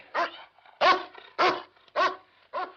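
A dog barks five times in a steady, evenly spaced series, each bark loud and close with a short whining tail, and no talking between them.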